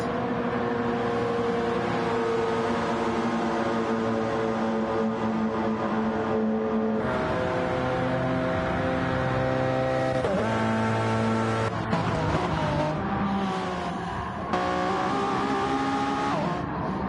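A Porsche race car in a Gr1 racing video game at the Daytona road course drones steadily at high revs throughout, its pitch stepping with gear shifts and power slides, with no voices.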